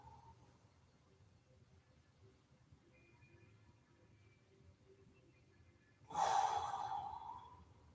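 A person breathes through a yoga stretch in a quiet restorative flow session. Faint, soft breathing sounds give way to one loud, close exhale near the end.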